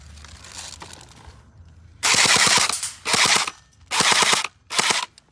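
Gunfire at a shooting range: after a quiet start, four loud, close bursts of rapid automatic shots, each lasting about half a second, separated by short pauses.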